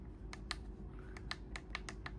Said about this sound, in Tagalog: naririnig ko na yung tunog ng aking shutter.